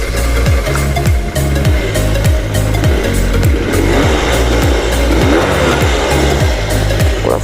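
A KTM Duke motorcycle engine fires up on the electric starter and runs at a rough, loud, rapid idle, its exhaust popping rhythmically up close with slight revving throughout.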